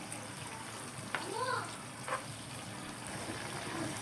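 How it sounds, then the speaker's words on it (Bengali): Chicken breast pieces seasoned with turmeric, chili and salt fry in a pan with a steady, moderately loud sizzle, broken by a couple of brief scraping squeaks from a utensil. "মুরগির বুকের মাংসগুলো হলুদ মরিচ লবণ দিয়ে এখন এগুলো ভাজি করে নেব।"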